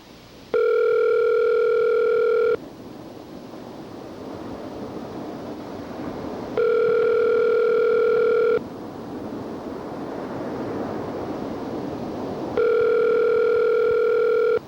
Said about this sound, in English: why is it ringing so long?